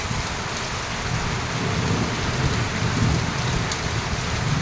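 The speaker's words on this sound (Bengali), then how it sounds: "দারুণ মেঘ ডাকছে।" Heavy morning downpour in a dark, cold monsoon storm, a loud dense roar of rain on surfaces with deep rolling thunder rumbling underneath throughout, close and continuous with no talk.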